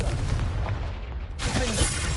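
A Confringo blasting spell erupts in Hogwarts Legacy as a sudden bright burst that cuts through the low background rumble near the end.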